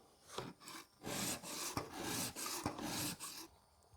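A Japanese garden tool's edge is sharpened on a coarse 200-grit diamond stone. Short, rhythmic rasping strokes scrape back and forth about five or six times, close up and fairly quiet, with no talking.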